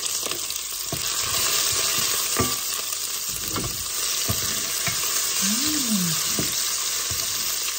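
Wild garlic stir-fried in a pan gives a steady close sizzle with intermittent scraping and stirring clatter, with no talking.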